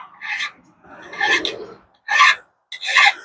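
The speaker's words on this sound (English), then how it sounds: "the more that we file, the shinier that blade edge is getting" A metal file rasps along the edge of a pruner blade in four loud, close strokes with brief pauses between them.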